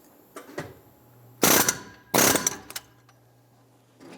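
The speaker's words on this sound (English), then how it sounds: "Our tool here uses an air hammer." Two loud bursts from an air hammer rattle against a cooling fan nut on a 2002-2008 Dodge Ram 1500, each lasting about half a second, surrounded by softer clicks of the tool being set in place.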